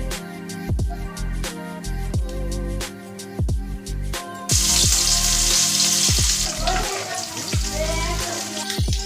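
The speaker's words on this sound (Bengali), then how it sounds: "মাছটাকে উল্টে পাল্টে ভালো করে ভেজে নেব।" Katla fish pieces frying in oil in a wok, a steady crackling sizzle that grows louder and brighter midway, with scattered knocks of turning the fish beneath the close, continuous spatter.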